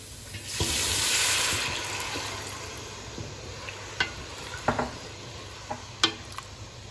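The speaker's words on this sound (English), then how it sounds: "And now we're going to add about 4 cups of water." Water poured into a pot of spiced meat frying for ghormeh sabzi bursts into a loud, close hissing sizzle that fades over a couple of seconds, followed by scattered clinks and scrapes of stirring.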